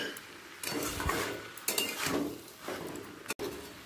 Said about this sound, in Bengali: একবার ভালো করে মিশিয়ে নিচ্ছি